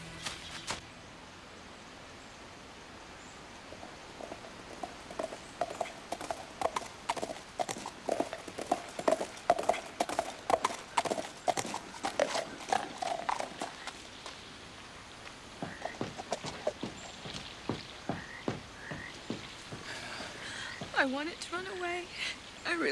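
Horses' hooves clip-clop in a steady trotting rhythm on hard ground at a frontier border town, close and clear, with voices talking over them and a horse whinnying near the end.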